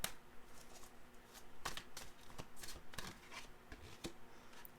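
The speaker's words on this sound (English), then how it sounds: "I'll just pull some more cards for this and see what the tarot has for you in store for the coming week" Tarot cards shuffled and drawn by hand, a run of crisp riffling flutters and sharp flicks repeating through the stretch, close and fairly loud with no talking.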